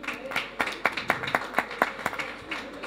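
A small studio audience on a French live entertainment show claps sparsely, with a handful of distinct, fairly quiet claps in an uneven rhythm.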